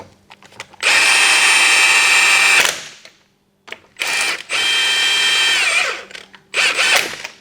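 An impact gun zips lug nuts tight on a supercharged Subaru BRZ race car being put back together, two long loud whirring bursts followed by a shorter one, with brief pauses between.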